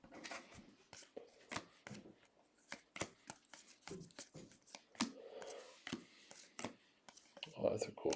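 Packs of 2021 Topps Series 1 baseball trading cards are torn open and handled, giving quick crinkling, rustling and card-flicking sounds under intermittent talk.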